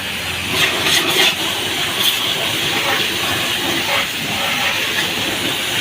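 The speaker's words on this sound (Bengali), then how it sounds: "আর একবার জল মেরে নেওয়া হচ্ছে" A scooter gets one more rinse with a water spray while it is being serviced for washing. The steady hissing spray runs the whole time at a fairly close, even level, with a few brief louder bursts near the start.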